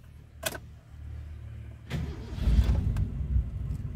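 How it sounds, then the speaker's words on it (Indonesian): A Toyota Kijang's starter cranks briefly and the engine catches on the first try, settling into a steady close idle after a sharp click at the start. "Sekali starter langsung hidup."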